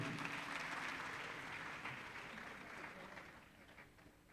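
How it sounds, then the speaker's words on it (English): An audience applauds at a swearing-in ceremony for foreign-trained medical and dental graduates, a steady, fairly faint wash of clapping that slowly tapers over a few seconds. "Please give him a round of applause."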